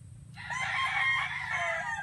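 A fighting rooster crows once, loud and close, a single drawn-out call lasting nearly two seconds.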